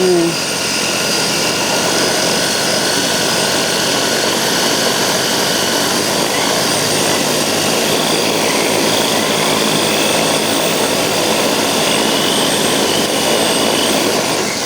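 A 3D-printed drone takes off on its maiden flight, its propellers producing a loud, steady whirring whine with a constant buzzing tone that stays close throughout.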